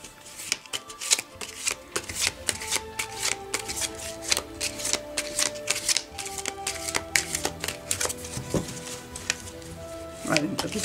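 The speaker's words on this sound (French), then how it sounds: "je vais tirer une carte supplémentaire pour éclaircir un petit peu la carte du chariot" Tarot cards are shuffled and drawn in a long stretch of rapid, papery riffling and snapping close to the listener, over soft tonal background music.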